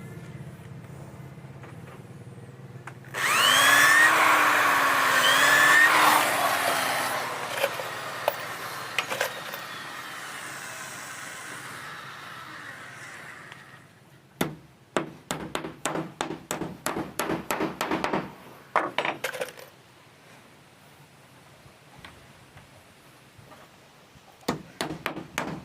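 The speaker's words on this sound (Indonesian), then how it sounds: "Kita sekalian paku yang sebelah sini" Nails are hammered into wood while building a goat pen: a long run of sharp, rapid blows with a few pauses, loud and close, after a stretch of engine-like noise and whining at the start.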